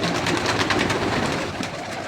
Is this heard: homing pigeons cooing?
yes